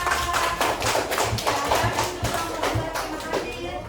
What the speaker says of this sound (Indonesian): Tepuk tangan lagi yang meriah buat kelompok 2